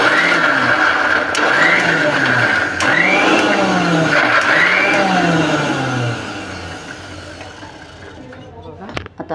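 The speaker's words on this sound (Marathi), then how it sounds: "मिक्सरला भांडं लावले. आता आपण वाटून घेऊ." A kitchen mixer grinder coarsely grinds dried Bombay duck into a dry chutney with no water. The loud motor whirs in repeated rising surges as it is switched on and off, then drops to a lower hum before fading out.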